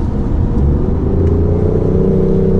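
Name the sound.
BMW i8 hybrid engine waking up in sport mode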